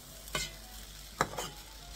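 Poha pulao with potato and onion being stirred in a pan: two distinct scraping strokes of a spoon over a soft, low sizzle, close up, with no voices.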